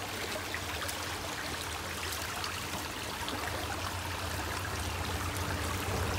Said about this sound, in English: Look at the beautiful creek.